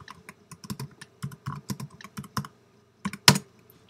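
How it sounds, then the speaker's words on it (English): Rapid keystrokes on a computer keyboard during a Minecraft multiplayer session on a Mac, coming in irregular bursts of clicks with short pauses and ending in one sharper, louder key strike near the end. "I'll type that."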